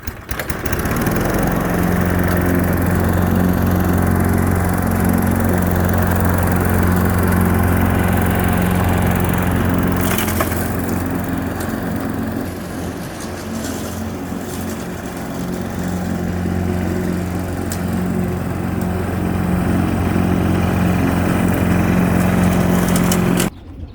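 A gasoline push lawn mower runs steadily while cutting grass, its engine droning loud and close with a continuous low hum and brief shifts in load as it moves through the grass.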